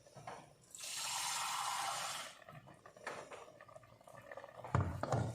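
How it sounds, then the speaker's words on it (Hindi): Water pours from a cup into a pressure cooker holding fried dal maash, a soft steady splash for about a second and a half, followed by quiet clinks and handling noises. "ये कप मैंने पानी डाला है"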